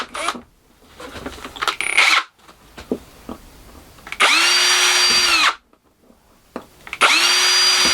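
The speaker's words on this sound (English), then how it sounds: "Going to stitch drill the inside of this out and then file it out to suit" A power drill bores a series of stitch holes through a metal vent plate for a laser engraver, loud whining bursts of a few seconds each, separated by pauses with handling clatter, close by.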